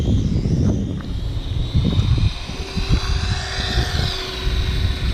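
A Dromida 1/18 scale RC rally car drives around on a street, its small electric motor giving a steady whine over continuous outdoor road and wind noise, with no talking.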